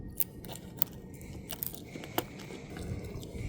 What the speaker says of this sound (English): I gotta go ahead and take the keys off the key ring.